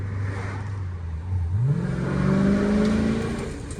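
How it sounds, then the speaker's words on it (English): A 2020 Dodge Challenger Scat Pack's engine rises from a low idle into a strong rev as the gas is blipped, the pitch climbing steadily and holding loud and close with no talking. "just a little bit of a bump of the gas there and whew, it wants to take off quick"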